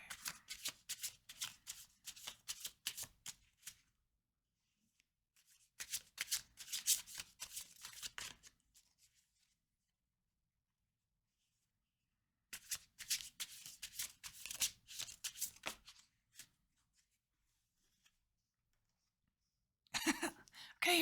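Tarot cards being shuffled in four separate bursts of rapid riffling and fanning, crisp and close, with quiet pauses between them.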